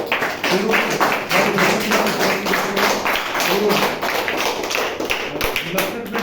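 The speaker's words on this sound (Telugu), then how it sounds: "ఒకసారి మనందరం చప్పట్లతో జన్మదిన శుభాకాంక్షలు తెలియజేస్తూ" A crowd at a village school gathering claps steadily for a birthday wish, a dense continuous patter of many hands that holds at an even loudness throughout.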